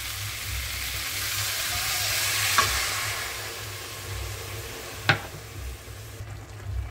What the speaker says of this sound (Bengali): এর মধ্যে জল দিয়ে দেবো একটু